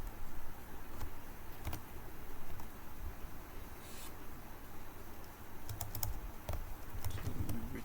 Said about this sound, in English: Trying to look for plus on my keyboard